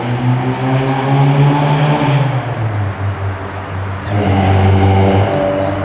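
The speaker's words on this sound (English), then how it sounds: "Can you believe somebody paid to make their car sound that way?" A loud, raspy modified car engine revs up and holds, dips, then climbs again into a higher roar, close and continuous throughout.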